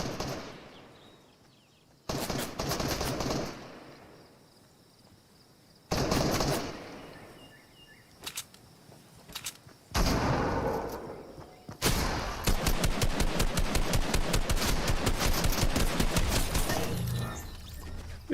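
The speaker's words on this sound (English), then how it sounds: "I didn't mean to shoot." Fortnite video game gunfire: bursts of shots and rapid automatic fire in several separate volleys, ending in a long sustained rattle, loud and close with no talking.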